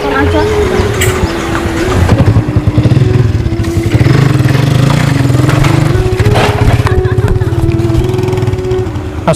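A Ninja motorcycle engine runs loud and close, its steady droning rumble rising and falling as it revs, with voices talking over it.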